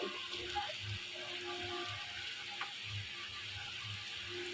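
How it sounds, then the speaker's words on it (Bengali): Jackfruit pitha cakes frying in hot oil make a faint, steady sizzle with soft bubbling crackles, heard close and quiet with no talking. "এই পাশটা ভাজা হয়ে গেলে লাল লাল করে ভেজে উঠিয়ে নিব"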